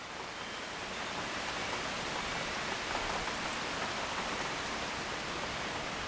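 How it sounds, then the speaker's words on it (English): Steady rain falls outdoors as a dense, even hiss of drops, continuous and moderately loud with no breaks and no voices. "It's raining again."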